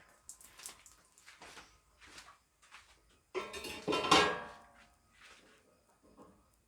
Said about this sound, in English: So we're just going to pull off our lid.